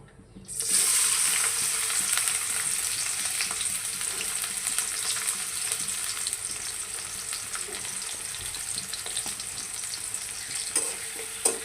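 Chopped onion and green chilli fry in hot oil with a loud, steady sizzle that bursts in sharply at the start and crackles on unbroken, close and without voices.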